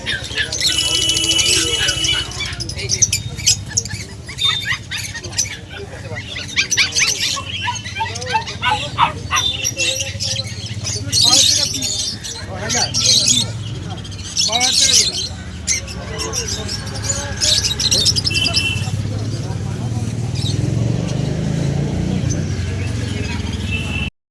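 Pigeons call at a Ganges riverside ghat in Serampore, with scattered chirps and squawky calls coming and going over a long stretch, mixed with ongoing conversation and background bustle.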